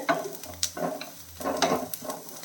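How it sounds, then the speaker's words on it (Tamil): Onions sautéing in a pan for tomato chutney, a soft sizzle broken by a few scraping stirs of the spoon, close and moderately loud. "வெங்காயம் வந்து இன்னும் கொஞ்சம் வதங்கட்டும்"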